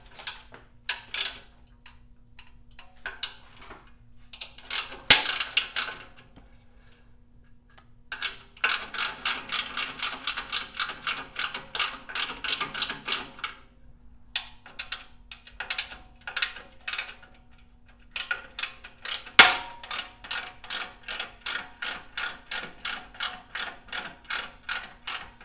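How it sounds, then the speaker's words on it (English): Ratchet wrench loosening 9/16 muffler clamp bolts on a Harley-Davidson Dyna S exhaust, heard as rapid bursts of close, crisp clicking in several runs separated by brief pauses. "First thing we're going to do is loosen the clamps for the mufflers"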